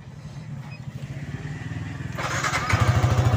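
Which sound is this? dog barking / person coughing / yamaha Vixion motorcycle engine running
yamaha Vixion motorcycle engine running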